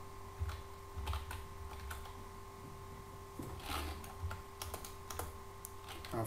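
Computer keyboard typing in scattered, quiet clicks and short bursts of keystrokes, close and faint, with a steady electrical hum underneath and no talk.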